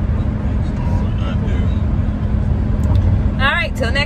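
A car towing a trailer cruises along a highway in Bedford County, Pennsylvania, with a steady, loud low road-and-engine rumble throughout; a voice briefly comes through near the end.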